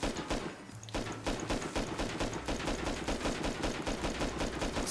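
Sustained automatic gunfire in the Rust video game, shown off for its new recoil pattern: a steady rapid rhythm of loud close shots running almost the whole time after a brief pause near the start, with no talking.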